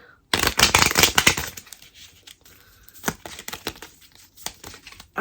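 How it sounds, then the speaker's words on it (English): A deck of cards being shuffled close up, a dense papery riffle burst up front, then lighter separate flicks and taps, with a final riffle starting right at the end. "So let me shuffle these cards again."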